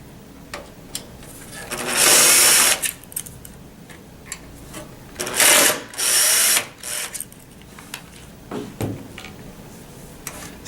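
A power tool whirs in short separate bursts while backing two screws out of a head frame, with quiet clicks and handling noise between the runs.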